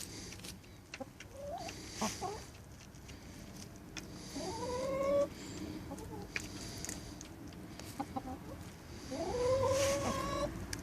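Chickens cluck around a hot baked potato in a backyard potato patch, with rising squawks and clucks recurring through steady outdoor background noise.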